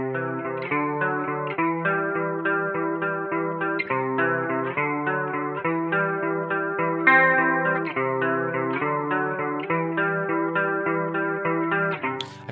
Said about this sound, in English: I like very natural sounding chorus.